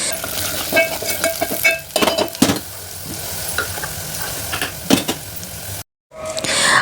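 Turmeric and red chili powder sauté in a pan for a homemade dal, with sizzling and repeated scraping stirs that come in bursts before a brief silence.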